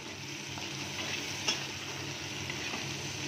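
Chopped tomato sizzles and fries in a pan while being stirred, a steady soft frying hiss with faint scraping of the spoon against the pan throughout.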